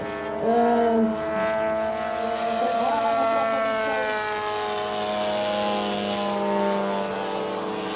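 Engine of a small propeller training airplane, a model with a 3.05 m wingspan and a ZTZ 80 cm³ engine, gives a loud steady droning whine with a rising pitch sweep near the start, close and sustained.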